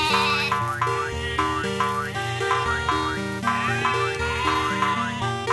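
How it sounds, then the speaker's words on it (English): Electric sheep in The Talos Principle bleat continuously in a warbling, synthetic chorus over a steady, bouncy musical pattern, loud and close with no talk. "It's electric sheep."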